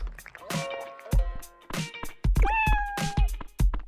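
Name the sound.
cat meowing in Dave the Diver video game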